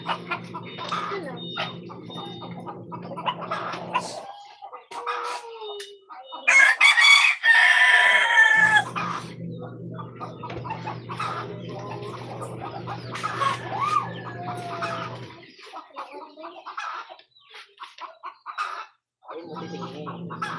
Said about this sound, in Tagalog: Ilang manok na nakatay dito?